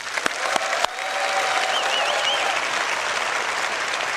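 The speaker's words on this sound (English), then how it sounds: "please give a round of applause for Leah, please." Steady applause from a conference audience at a Star Citizen fan event, starting after a few sharp claps and holding as a dense, even wash of clapping with some crowd noise.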